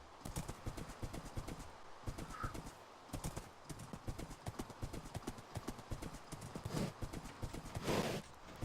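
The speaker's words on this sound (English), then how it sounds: "we got some sort of horse here" A horse in a video game clip-clops with steady hoofbeats, a rapid repetitive rhythm of close, crisp impacts that carries on throughout, with a brief whinny-like tone and a faint burst near the end.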